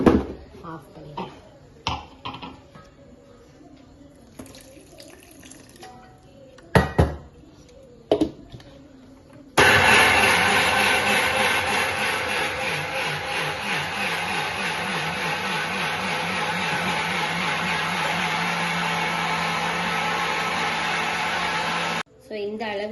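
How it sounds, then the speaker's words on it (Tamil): Clattering of lids and utensils comes first, then an electric wet grinder starts up on millet and flattened rice batter for idli, settling into a loud, steady motor whir that runs on evenly until it abruptly stops near the end. "இப்ப நம்ம கிரைண்ட் பண்ண போறோம். இது ஓடிட்டே இருக்கட்டும்"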